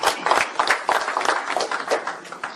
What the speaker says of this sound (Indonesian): Kita kasih aplaus buat teman-teman Muda-Mudi Ahok.